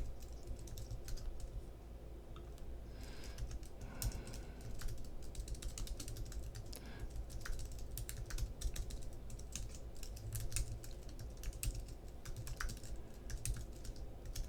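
Rapid, continuous clicking of keys being typed on a computer keyboard, close up, with no speech.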